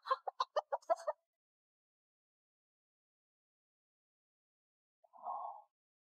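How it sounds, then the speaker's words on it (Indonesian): A chicken clucks in a quick burst of about seven sharp clucks, then silence, then one softer drawn-out cluck a few seconds later. "ayam kecil cepat keluar"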